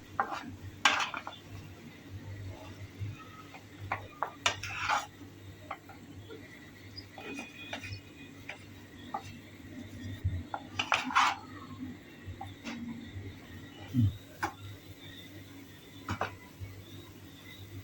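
Five boiled, smashed potatoes are sautéed in a pan, with a spatula scraping and clinking against the metal in irregular strokes. There is no talking.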